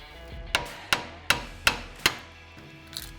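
Five sharp metallic hammer taps struck on a wheel hub of an Isuzu to knock it loose, evenly spaced and close, with a softer knock at the end.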